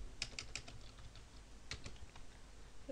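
Someone types a command on a computer keyboard, with a few quick key clicks, a pause, then a couple more taps, all faint against a low background hum.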